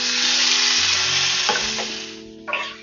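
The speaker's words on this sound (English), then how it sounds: "I'm going to add in the bacon." Bacon sizzling loudly in a large skillet over medium-high heat, a steady close frying hiss with a couple of soft clinks and stirring sounds near the end, no talking.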